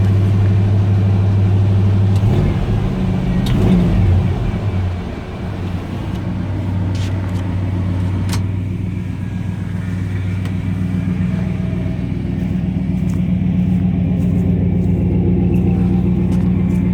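Carbureted car engine on a cold start with the choke on, revving up in a loud close rumble, then settling into a steady, lower fast idle.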